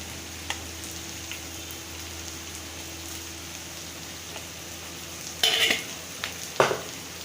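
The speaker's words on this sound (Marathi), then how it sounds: "कांदा भाजतोय तो मी मसाल्याची तयारी करते" Onion roasts in a pan with a faint, steady background sizzle, broken near the end by a couple of brief utensil clatters.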